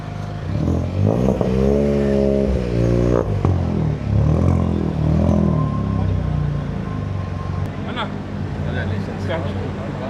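A BMW 330 Li long-wheelbase M Sport engine revs up sharply, settles, then revs again in shorter bursts. Voices talk over the close, loud engine.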